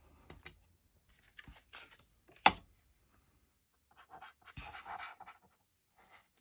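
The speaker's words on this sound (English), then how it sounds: "I hear the scratching of the metal on the paper" A metal tool scratches across paper during a paper pumpkin craft project, making faint, sparse scratchy strokes with one sharper scrape and short gaps of near silence.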